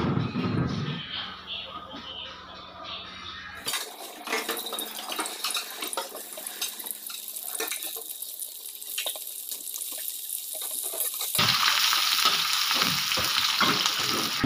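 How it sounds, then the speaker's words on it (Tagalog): Pork frying in a pan for bami noodles gives a steady hiss and sizzle that grows broader and louder toward the end, mixed with running-water-like noise and faint clatter, with no speech. "Lagay natin yung karneng baboy."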